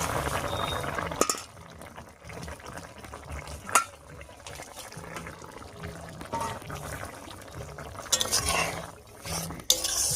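Fried magur catfish goes into a simmering Bengali curry with thankuni leaves and is stirred, giving wet bubbling and sloshing with a few sharp clinks of the utensil against the pan, close and moderately loud.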